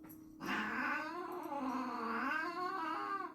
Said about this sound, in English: She's hissing at the kitten.